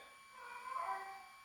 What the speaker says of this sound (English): Oh man, stop. That's my cat again.